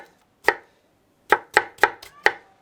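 Peeled tomatoes chopped with a zırh knife on a small wooden board for Antep lahmacun: one sharp close chop, a pause, then a quick run of five crisp knife strikes against the wood.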